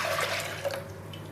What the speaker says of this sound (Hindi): इस तरह से मैंने एक बर्तन ले लिया, इसमें मैं पानी को ऐड कर दूंगी।